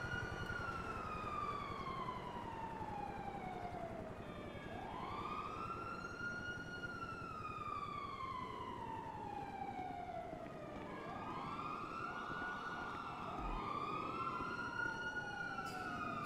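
An emergency siren in a video game wails in long rising and falling sweeps, repeating several times over a continuous vehicle rumble, fairly loud and unbroken by talk.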